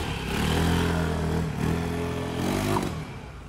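A Yamaha XMAX 300cc scooter, freshly fitted with a full CVT setup, runs on a test ride, its engine humming loud and close with a brief dip and swell in revs.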